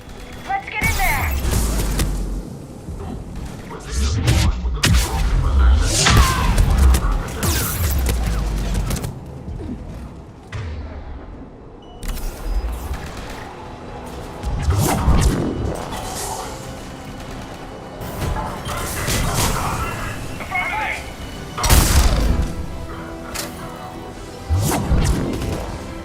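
Firefight gunfire in Mass Effect 3 around a besieged checkpoint: bursts of shots and impacts come in waves with booms and mechanical clatter, mixed with game voices talking over the action.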